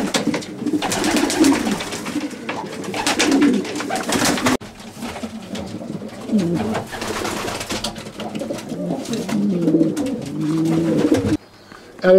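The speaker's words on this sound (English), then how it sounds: "This is the scene inside one of Russell's old bird racing sections." Racing pigeons coo inside a loft section in a garden, with soft overlapping throaty coos from several birds close by, accompanied by rustling and wing flutters throughout.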